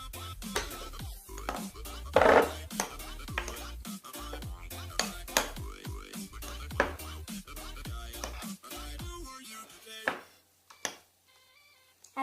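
Slime mixture stirred in a bowl, with repeated clinks and scrapes of a utensil against the bowl in an irregular rhythm, close and fairly loud, fading toward near silence at the end.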